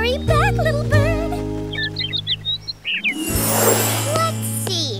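A cartoon little bird in an animated kids' show chirps in quick bright tweets after a voice speaks, with a musical background and a brief whooshing swell as it flies off.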